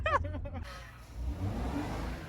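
A Toyota Supra's engine runs on a test drive, a steady mid-pitched drone inside the car after a short burst of talking at the start.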